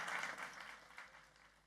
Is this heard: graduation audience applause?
yes